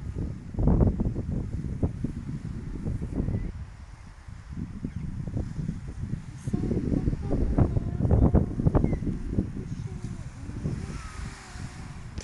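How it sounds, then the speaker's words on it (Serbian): Cold wind blows steadily by the water, rumbling loudly against the microphone in gusts throughout, with people talking close by over it. "Što je hladan ovaj vetar"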